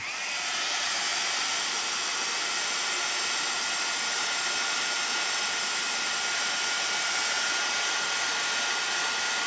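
A handheld dryer blows a steady, loud, even hiss and whir while drying a freshly assembled craft folio piece, running continuously throughout with no breaks.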